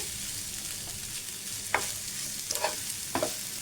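Food stirred and lightly fried in a pan, a soft constant sizzle with a few sharp scraping spatula strokes near the end, close but quiet, no voices.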